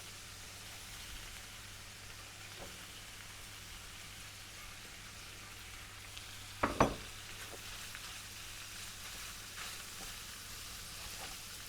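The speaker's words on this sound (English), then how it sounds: "We're just going to stir that in so the spices cook a bit" Onion and spices frying in a pan for a spiced beef pie filling, a soft continuous sizzle with a couple of sharp scraping clatters from stirring midway and no voices.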